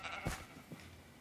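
A sheep in the video game Minecraft gives a short, faint bleat followed by a second, weaker one, alone and with no talk.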